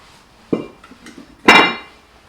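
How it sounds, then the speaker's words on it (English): A small plastic-faced rubber mallet taps a stuck brake rotor loose on a Kia Optima during a brake job, giving two separate dull, slightly ringing knocks about a second apart, close and fairly loud, with quiet in between. "I have my little plastic mallet, little rubber mallet, and was able to hit it off very gently, and it came right off very smooth"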